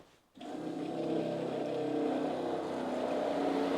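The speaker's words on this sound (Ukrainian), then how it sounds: "Запускаємо кулер. Хай прогонить." The coolant cooler pump of a Jasic TIG-320P AC/DC TIG welder switches on after a brief silence and settles into a steady, close humming drone that holds evenly to the end.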